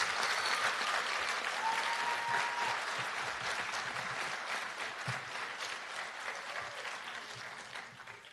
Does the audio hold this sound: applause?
yes